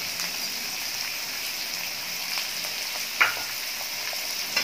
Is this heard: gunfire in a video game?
no